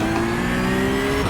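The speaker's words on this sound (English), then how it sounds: "on the red light we're going to build up the revs to full" Porsche Cup race car engine in the iRacing video game, held at high steady revs on the start line, a loud continuous droning whine with a sustained tone.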